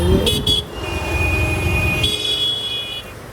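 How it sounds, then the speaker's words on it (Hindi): Heavy road traffic in Karnataka, India, heard from inside a moving auto-rickshaw: a loud, steady engine and road rumble, with high car horns sounding in bursts near the start and again later. "बहुत ट्रैफिक चल रहा है भाई"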